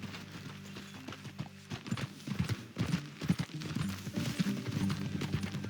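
Horse hooves clip-clop at a steady walking pace in Red Dead Redemption 2, moderately faint beneath a low ambient bed with occasional tack and movement noises.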